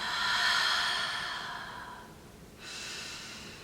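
Audible yoga breathing, heard as a long, airy exhale that slowly fades before a second breath begins, close and steady with no speech.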